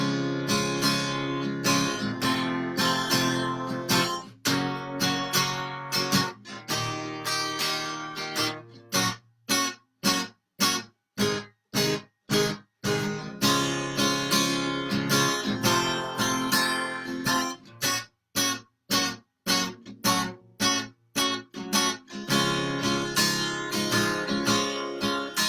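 Strummed chorus of a song on guitar, with a busy, complex strumming pattern in steady rhythmic bursts and several brief choppy pauses midway, played alone and close.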